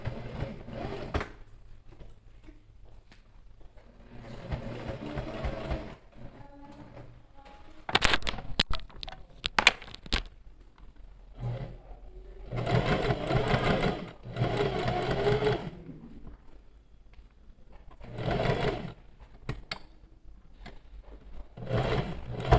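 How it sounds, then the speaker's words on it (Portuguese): A sewing machine stitches a seam with a backstitch at start and finish, running in several loud, close bursts separated by quiet pauses. "Começa com retrocesso e termina com retrocesso."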